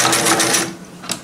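A 1975 Singer Fashion Mate 360 sewing machine runs on zigzag stitch, its needle chattering in a quick, loud rhythm close by for about half a second before easing off into quieter mechanical whirring.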